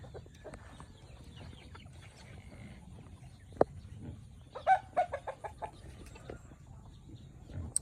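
Chickens in a forested rural village cluck in a quiet outdoor setting, with a short run of rhythmic clucks midway and scattered calls before and after, fairly faint and close, with no talk.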